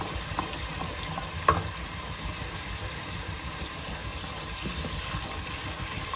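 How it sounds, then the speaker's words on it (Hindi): Onion puree paste frying and being stirred in a pan for white karahi, a steady close sizzle with soft scraping strokes and one sharp clink of the utensil. "इस पेस्ट को हम रोस्ट करेंगे, फ्राई करेंगे और सही से भून लेंगे"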